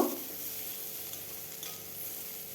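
Salt and turmeric stirred into vegetable peels frying in a pan, a soft, even hiss of frying that stays quiet throughout, with a faint scrape near the start and no talking.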